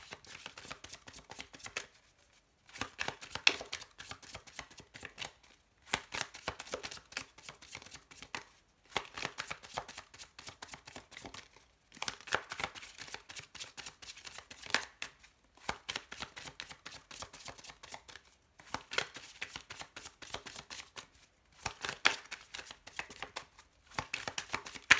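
A tarot deck being shuffled and cut by hand, with continuous rapid riffling and flicking of cards broken by brief pauses every few seconds, close and fairly soft, with no talking.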